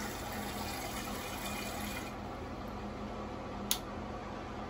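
Bidet spraying water to clean its own nozzle, a steady close hiss of flowing water at low to moderate level, continuous throughout with a single small click near the end.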